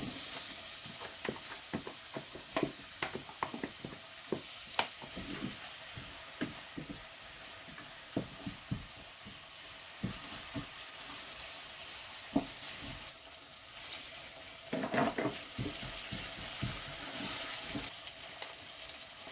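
Onion fries in oil in a pan for a spicy meat pie, with a continuous close sizzle broken by repeated stirring clicks and scrapes, and a louder burst of hissing late on.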